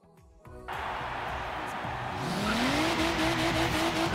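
A BMW M4 Liberty Walk in Forza Horizon 3 accelerates hard, its engine note climbing steadily in pitch with rising roar and a faint tire hiss, loud and close with no talking.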